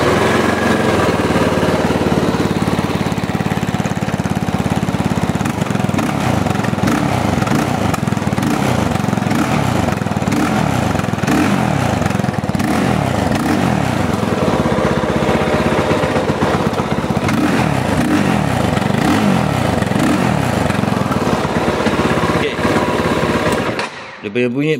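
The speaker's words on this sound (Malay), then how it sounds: "Dia punya bunyi bukan daripada enjin bunyi dia daripada airbox." A KOVE 450R Rally motorcycle engine idles and revs loudly up close, a throaty pulsing drone with rising and falling airbox intake roar throughout, cutting off abruptly at the end.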